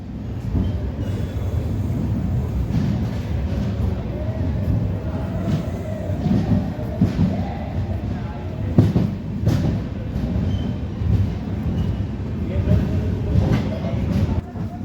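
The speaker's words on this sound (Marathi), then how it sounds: "आपली ट्रेन लातूरवरून निघालेली आहे" The 11045 Dikshabhoomi Express rumbles along steadily after leaving Latur, its wheels and carriages giving a continuous loud roar with occasional clanks.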